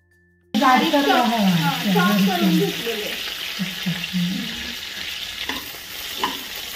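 Ginger and garlic sauté in hot oil in a pan for chilli chicken, a loud continuous sizzle with stirring scrapes, overlaid by someone speaking clearly near the start.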